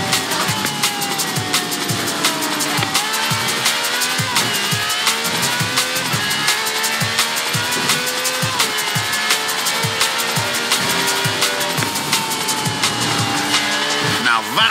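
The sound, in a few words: V12 taxi cab racing with tyre squeal, from video game Forza Horizon 4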